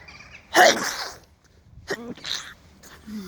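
A single loud, sharp sneeze bursts out near the start, followed by quieter rustling and a brief voiced sound.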